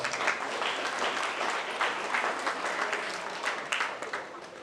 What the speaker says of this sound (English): Let's give these two young ladies a round of applause